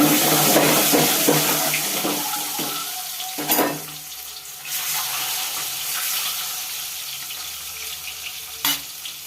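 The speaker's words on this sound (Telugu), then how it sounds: "గుడ్లు వేసేసుకుందాం గుడ్లకి చిల్లు పెట్టా లేకపోతే తేలిపోతాయి బాగా ఫ్రై చేసుకుందాం" Eggs frying hard in a pan for a Telugu egg, ridge gourd and dried fish curry, a steady loud sizzle with stirring scrapes and a few sharp clatters, no voices.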